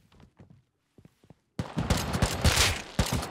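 Rapid gunfire in the survival video game Rust, a dense burst of shots erupting loudly after a few faint thuds and steps, with overlapping bangs continuing to the end.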